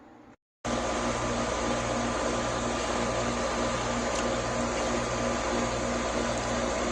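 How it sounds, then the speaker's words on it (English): After a brief quiet gap, a steady loud mechanical hum and whir starts and drones on evenly as a home's outdoor air conditioner condenser runs. "Now you can hear that the condenser outside of my house is running now."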